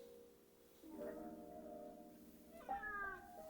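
A pet cat named Roxy gives two meows nearby, a drawn-out tonal call followed by a sharper rising one, with a quiet room behind.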